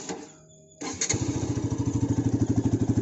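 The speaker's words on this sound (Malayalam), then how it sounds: "അതിനു മുമ്പ് നമുക്ക് ഇതിൻ്റെ എക്സോസ്റ്റ് സൗണ്ട് ഒന്ന് കേട്ട് നോക്കാം" A Bajaj Pulsar RS200 BS6 motorcycle starts up and settles into a loud, rhythmic exhaust idle, its pulsing beat close and steady after a brief quieter lead-in.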